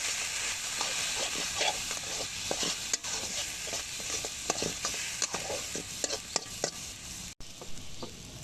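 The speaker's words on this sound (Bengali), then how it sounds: "রসুন বাটা দিয়ে একটু একটু ভাজা ভাজা করতেছি।" Vegetables frying with garlic paste for a spicy chorchori are stirred in a pan, giving a continuous hiss and sizzle with repeated scraping strokes of the spatula, close and steady.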